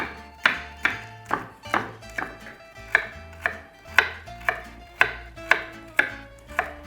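A chef chops a small amount of celery for lasagna on a cutting board, about a dozen crisp knife strikes in an even, unhurried rhythm, close and clear with nothing else audible.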